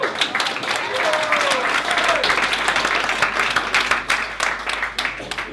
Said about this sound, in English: I think all of that deserves a little round of applause.